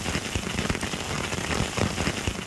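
Heavy rain mixed with hailstones pelting down over the eastern highlands, a dense, steady hiss with scattered sharper crackling impacts throughout, loud and continuous with no voices.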